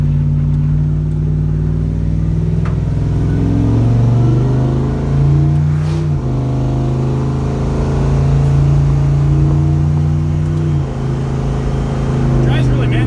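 Farm drag truck fitted with CalTracs, new shock mounts and a 160 thermostat out for a drive: steady loud engine drone with rising and falling revs and shifts around 4, 6 and 11 seconds, close to the microphone.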